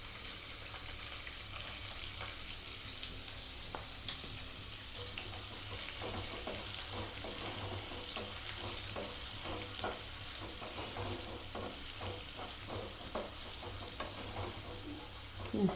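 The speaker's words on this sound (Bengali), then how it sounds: "তো তেলটা গরম হয়ে গেছে, এর উপর দিয়ে দেবো একটু মৌরি। এরপরে দিয়ে দেবো আমি এতে একটু পেঁয়াজ কুচানো।" Fennel seeds and chopped onion frying in hot oil in a home kitchen, a steady sizzle throughout with scattered crackles and stirring scrapes, loud and close, no talking.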